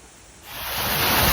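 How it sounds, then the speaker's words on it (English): A waterfall's broadband rushing roar starts soft and swells steadily louder, filling the whole sound with a continuous hiss and no voices. "The beautiful waterfall."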